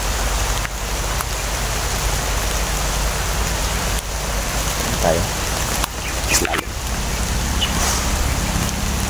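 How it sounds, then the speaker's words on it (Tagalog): Heavy rain pours down steadily and loudly throughout, a dense continuous hiss of drops hitting surfaces, with brief speech over it. "Puro na malakas yung ulan."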